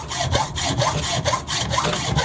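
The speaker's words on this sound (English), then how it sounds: "I'm just going to hacksaw it off to the line" A hacksaw cuts a metal plate for a Warco WM180 lathe lead screw protector, with quick, even back-and-forth strokes rasping close by and no talking.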